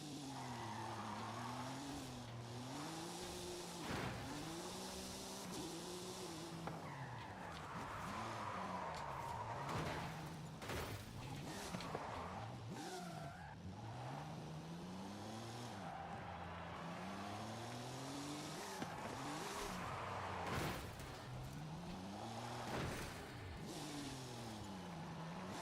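A truck in a video game drives and skids, its engine whining up and down through repeated gear and throttle changes, with bursts of tire squeal and skidding scattered throughout.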